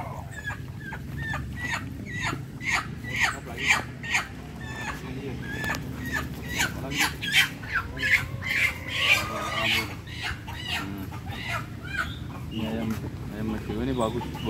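Mexican roosters and chickens clucking and crowing close by in bursts, with people talking over them.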